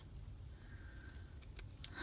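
Scissors snip through a paper card pocket being trimmed, a few short crisp cuts near the end over a quiet, low room hum, close and faint.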